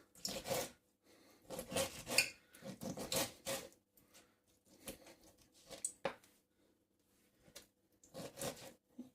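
A knife chops raw fish into small squares on a board, a series of close, irregular cuts and scrapes coming in bursts with short pauses between them.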